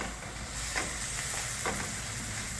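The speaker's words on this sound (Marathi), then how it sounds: "छान परतून घ्यायचं" Tomato and capsicum sauté in a hot pan with a steady, soft sizzle, and two brief stirring scrapes break through the frying hiss. No one speaks.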